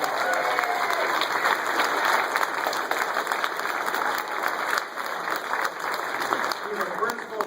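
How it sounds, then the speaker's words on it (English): Rally audience at a New Hampshire political dinner applauding host Kevin Smith, a dense sustained round of clapping from a large crowd with voices mixed in, steady throughout. "Let's give our host, Kevin Smith, a great round of applause"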